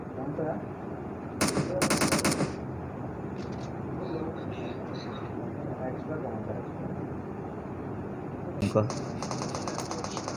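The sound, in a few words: gunfire in video game PUBG Mobile, SKS rifle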